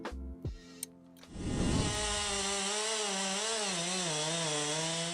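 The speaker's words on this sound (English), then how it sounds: "The secret lies in cutting technique and a chainsaw." A few knocks and clunks, then a chainsaw roars to life and buzzes steadily at high revs, its pitch wavering slightly as it cuts through a giant tree trunk.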